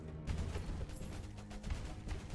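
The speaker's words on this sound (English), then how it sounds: "Explosion. It's so beautiful to hear that noise." A fiery explosion from the Tower of Babel survival game, loud and rumbling throughout with dense crackling bursts and several sharp blasts spread across the span.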